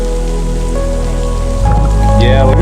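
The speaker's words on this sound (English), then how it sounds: "on our way back down, we got caught in a hailstorm" Hail pelts down in a mountain hailstorm, a dense, loud, continuous patter that swells in intensity partway through, with a steady low rumble beneath.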